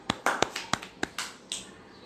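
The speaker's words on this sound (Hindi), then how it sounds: "शाबाश, तालियां।" A handful of sharp claps ring out irregularly during a yoga practice session, close and fairly quiet, about eight separate hits spread over two seconds with short room echoes.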